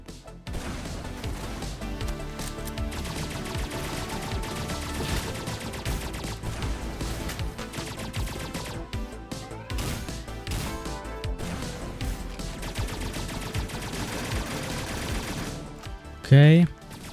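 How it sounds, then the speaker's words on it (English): A rocket launcher fires amid chaotic combat in a Roblox first-person shooter, with dense continuous explosions, gunfire and game music, and a sharp loud burst near the end. "I think I'm gonna use the rocket launcher for this guy to quickly destroy"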